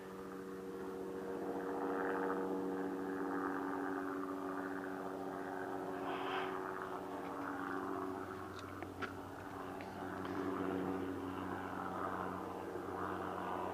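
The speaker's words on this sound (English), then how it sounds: "Never a good sound when you hear a helo coming your way" A helicopter, likely a fire spotter with no water bucket, drones steadily with a low rotor thrum and engine whine, holding fairly constant loudness as it passes overhead, with no talking.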